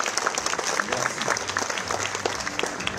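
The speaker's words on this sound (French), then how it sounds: "Je voudrais quand même entendre des applaudissements pour Madame Galou." An audience at a Guadeloupe cycling tour presentation claps steadily, a dense, even patter of many hands close by with no clear talk over it.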